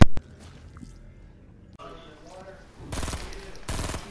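Automatic gunfire in the Fortnite video game: two loud, rapid bursts close together near the end, following a quieter stretch with faint game sounds and clicks.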